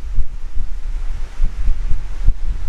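Strong wind buffets the microphone, producing a constant low rumble with irregular gusty thumps and surges, loud and close, with no voices.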